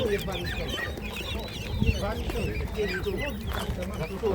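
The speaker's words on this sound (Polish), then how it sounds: "Te śliczne kurczaki to w jakiej cenie Panie ma?" Chickens cluck and chatter throughout, a busy flock close by at a poultry market in Szczuczyn, with people talking over the noise.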